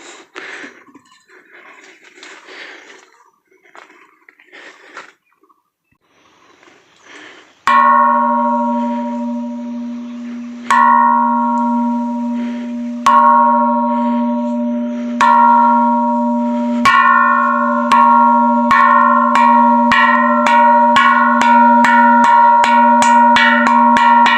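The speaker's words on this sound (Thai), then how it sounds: "เดี๋ยวตีระฆังก่อนก็ได้ เป็นสัญญาณว่าเรามาถึงแล้วนะครับ" A large bell at a Buddhist pagoda, Phra That Chedi Mae U Kho Luang in Khun Yuam, Mae Hong Son, is struck repeatedly after quiet murmuring, each loud resonant strike ringing on, blows growing quicker and overlapping toward the end.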